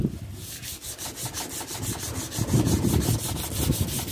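A steady abrasive rubbing as a slow-running power sander polishes a metal knife blade, with rhythmic pulses and a continuous hiss throughout.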